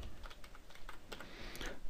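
Rapid soft keystrokes on a computer keyboard tap out in an irregular run, faint and close, with no talking.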